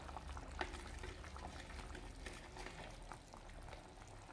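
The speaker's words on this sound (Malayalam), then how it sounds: "മുരിങ്ങയ്ക്കായും തക്കാളിയും മാങ്ങയൊക്കെ നമ്മൾ ചേർത്ത് നല്ലതുപോലെ തിളച്ച് വന്നിട്ടുണ്ട്" A Kerala-style kilimeen fish curry with drumstick, tomato and mango boils in a pot, giving a soft, steady, continuous bubbling close by, with no talking.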